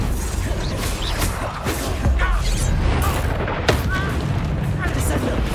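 A Depulso spell impact in the Hogwarts Legacy video game lands as a loud boom over dense, constant game noise and voices, with a sharp burst standing out briefly amid the steady roar.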